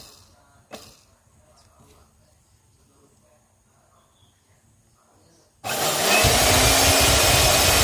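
A Philips blender's motor, just repaired after a faulty safety switch, starts abruptly after quiet room sounds and then runs loud and steady with a broadband whir until the end.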